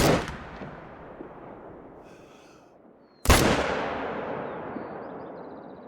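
Two hunting rifle shots in the hunting video game Call of the Wild, the first near the start and a sharper, louder one a few seconds later, each followed by a long rolling echo that fades out; no talking.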